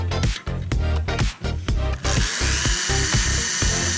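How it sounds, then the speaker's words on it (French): A drill bores through metal mounting plates, loud and close, starting with stuttering bursts as the bit catches, then settling into a steady, high-pitched grinding whine for the second half, with no speech. "Je perce mes platines"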